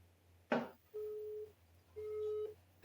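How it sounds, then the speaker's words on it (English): A telephone line gives a busy signal: two steady, clean tone beeps with a gap between them, alone and fairly clear, bracketed by brief clicks from the handset. "It just rings busy."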